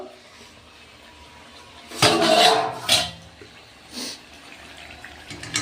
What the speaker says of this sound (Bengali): ভালো করে নাড়াচাড়া করে ঢাকাটা একটু খুলবো